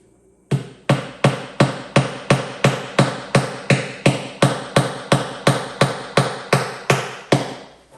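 Long thumbtacks hammered into a raised garden bed liner, about eighteen loud close even blows in a brisk steady rhythm, each ringing briefly, no talking.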